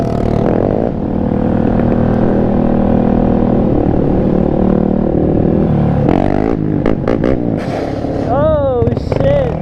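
A Tao Tao 140cc Chinese dirt pit bike is ridden and held in fourth gear. The small engine drones loudly and steadily up close, rising and dipping with the throttle near the end, while a person talks over it.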